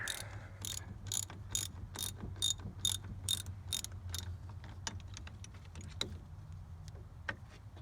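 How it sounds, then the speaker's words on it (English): A cheap ratchet wrench clicks in a quick regular run of sharp ticks up close, then slows to scattered clicks, working on a stuck battery top-post clamp. "Cheap ratchets."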